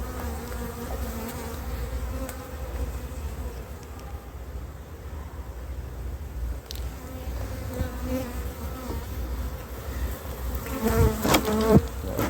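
Honey bees swarm and buzz steadily around open hive frames in spring, a dense continuous drone with a few closer buzzes swelling louder near the end.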